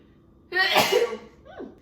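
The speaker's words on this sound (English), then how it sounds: "Hold on, I might sneeze." A single sharp sneeze bursts out close by, followed by a short breathy sound as it trails off.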